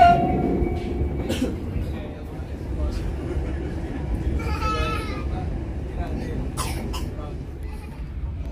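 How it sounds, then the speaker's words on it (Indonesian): A Serayu passenger train departs Cimahi station in a steady rumble of wheels and rail noise, with people talking and a cough close by on the platform. "kereta api Serayu berangkat stasiun"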